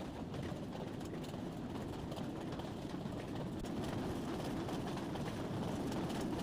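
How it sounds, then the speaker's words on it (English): A Tejas Express train crossing a bridge in a train simulator game, heard as a faint, steady rolling rumble with light rhythmic clatter that holds an even level from start to finish. "And now I crossing a bridge."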